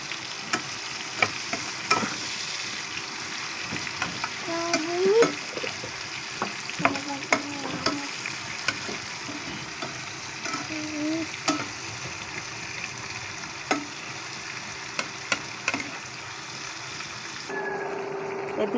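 Leafy greens with turmeric, salt and green chilli frying in a pan: a soft, steady sizzle with intermittent spoon scrapes and stirring clicks, close by and fairly quiet, without talk.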